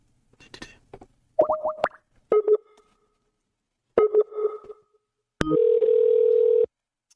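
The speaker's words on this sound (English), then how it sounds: "Gonna make a phone call here." Phone dialing tones and a sustained steady tone ring out in separate bursts, with short electronic blips and a long flat tone near the end, all clear and close with gaps of silence between.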